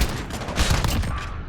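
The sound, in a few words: MK2 carbine gunfire in the video game Modern Warfare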